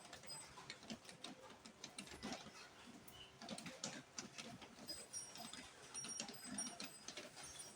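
A sewing machine stitches jacket fabric and lining for a double-breasted jacket, a rapid mechanical ticking and whirring that runs steadily throughout at moderate level, with faint rattles and no talk over it.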